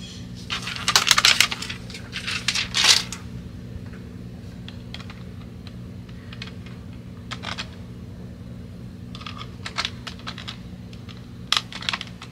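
Small screws rattling, clinking and being driven into the corners of a PC case: bright metallic clatters close by, clustered near the start, then scattered clicks and ticks over a steady low hum. No talking.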